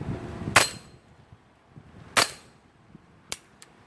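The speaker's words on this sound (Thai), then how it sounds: "ยิงใส่ขวดแก้วนะครับว่าจะเป็นยังไงนะครับ" BB gun pellets fired at a glass bottle give sharp, bright cracks, two spaced shots followed by a quicker pair of smaller snaps, with quiet between.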